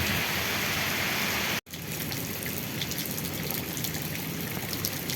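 Hard rain pouring down in a waterfront park, a dense, steady hiss of drops on surfaces with a brief cut-out early on, loud and continuous throughout with no voices.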